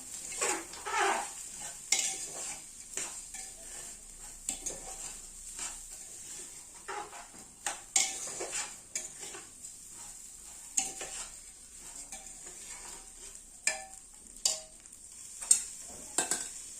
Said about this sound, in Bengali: দিয়ে দিচ্ছি কাজু কিশমিশ ভালো করে মিশিয়ে নেওয়া